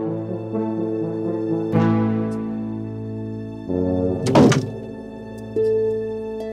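Someone tries a locked door at home that will not open: a few muffled thunks and rattles of the handle and door against its frame, with a sharp knock near the middle, over steady background music.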